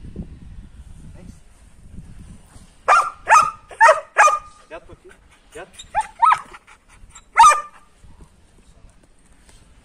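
A Belgian Malinois barks in a burst of sharp close barks with whimpers between them. Someone speaks softly before and after the barking.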